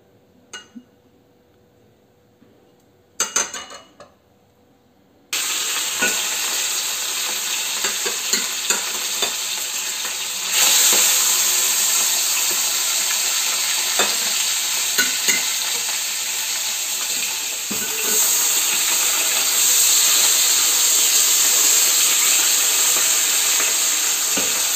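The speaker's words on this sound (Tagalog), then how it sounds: "yung ating pina-fry na fish" Fish frying in hot oil in a wok-style pan, a steady loud sizzle and hiss that starts abruptly after a few quiet seconds and continues with occasional pops and clinks.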